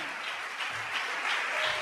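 A church congregation applauds steadily during a sermon, a dense wash of clapping holding at the same loudness for the whole stretch.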